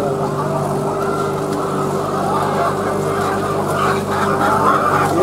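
Caged laying hens on a poultry egg farm cluck in a dense, continuous chorus, with a steady mechanical hum underneath throughout.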